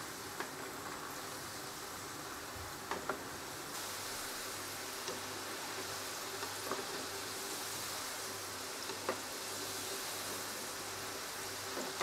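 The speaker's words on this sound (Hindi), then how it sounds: "इनको ऑयल में फ्राई कर लेंगे" Three medium potatoes, cut into long pieces, fry in hot oil with a steady hiss and a few faint pops scattered through it. The sound is continuous and fairly quiet, and no one speaks.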